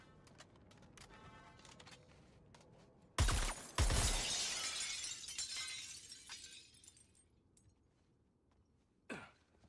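Glass shatters in the Suicide Squad video game, a sudden loud double crash followed by a long tinkling decay of falling shards, with a faint click near the end.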